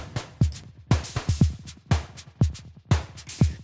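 A mix uses a reverb built from individual delay taps, so each thumping drum hit is trailed by a quick cluster of distinct, grainy repeats rather than a smooth wash, in a loose recurring rhythm with no voices.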